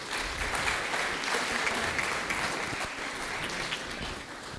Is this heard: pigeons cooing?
no